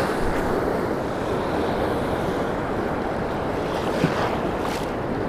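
Ocean surf on the Central Coast of California washes in as a steady broadband roar during surfperch fishing from shore, with wind buffeting the microphone and no voices.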